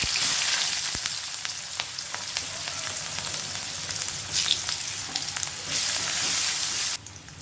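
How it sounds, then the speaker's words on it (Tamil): Mustard seeds spluttering and crackling in hot oil for South Indian brinjal rice, a dense steady hiss of frying with fine popping throughout, close and fairly even, no voices. "இப்போ கொஞ்சமாக கடுகு போட்டு நல்லா பொரியட்டும்"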